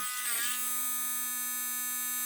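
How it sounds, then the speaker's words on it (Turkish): A Piranha electric engraving pen running from a plug-in adaptor makes a steady, close, buzzing hum with a bright whine that settles after a brief start-up wobble. "Makineyi size çalıştırarak sesini dinlettireyim."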